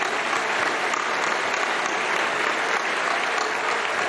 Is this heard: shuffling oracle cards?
no